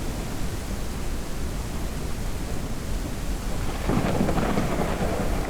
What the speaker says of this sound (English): it's rain and lightning.